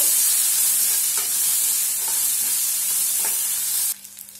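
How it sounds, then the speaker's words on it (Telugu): Thinly sliced long-cut onions and green chillies frying in a pan for a breakfast egg pasta dish, a steady loud hiss with light stirring clicks, ending abruptly near the close. "సన్నగా తరిగిన పొడవుగా ఒక ఆనియన్స్ మెత్తగా అయ్యేంత వరకు 1 నిమిషం పాటు ఫ్రై చేసుకుందాము"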